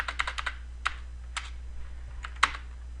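Keystrokes on a computer keyboard tapping out text in short irregular clusters with brief pauses between bursts, close and fairly quiet over a steady low hum.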